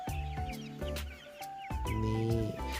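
Polish crested and Columbian chickens cluck and chirp close by, a busy mix of short calls and peeps repeating throughout while the young birds are readied for shipping.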